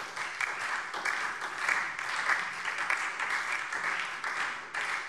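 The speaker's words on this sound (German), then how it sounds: "Applaus" Applause in a Hessian state parliament plenary session, a few seconds of moderately quiet, even clapping from the chamber with a few individual claps and slight swells.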